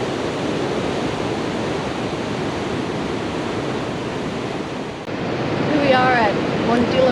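Ocean surf at Dilla Beach near Fowlers Bay, Australia, makes a continuous loud wash of breaking waves, with wind buffeting the microphone and a faint voice near the end.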